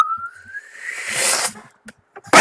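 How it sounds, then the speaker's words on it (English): A rising whistle of a flying broom builds and swells into a hissing rush, followed by a few short scattered knocks and a sudden loud burst at the end. "You can hear the whistling of a broom."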